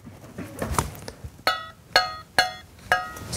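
Four bright metallic pings from a loose piercing saw blade wobbling in its frame, spaced about half a second apart, each ringing briefly with a wavering, wobbly overtone, following some soft handling noise at the start.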